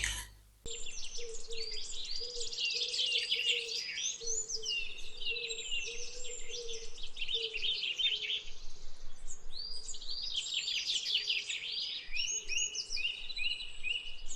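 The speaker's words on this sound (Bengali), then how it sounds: "আমাদের জঙ্গলে এত সুন্দর সুন্দর পশু পাখিগুলা যে চিল্লাচ্ছে" Dense bird song and chirping in a jungle, many calls overlapping continuously at steady volume, with a faint low insect-like drone underneath.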